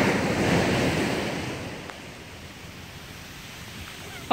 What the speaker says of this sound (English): Melbourne Beach, Florida. No one on the beach